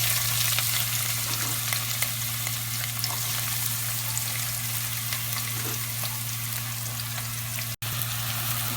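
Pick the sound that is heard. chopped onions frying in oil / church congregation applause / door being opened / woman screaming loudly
chopped onions frying in oil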